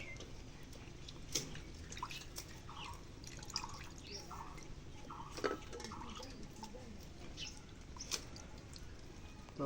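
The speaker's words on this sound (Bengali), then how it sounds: "এবার মাছটা ধুয়ে নেব" Faint, irregular drips and small splashes of water fall while cut tilapia is rinsed in a quiet kitchen, with a few sharper taps spaced a second or two apart over a low background hiss.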